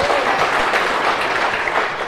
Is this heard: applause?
yes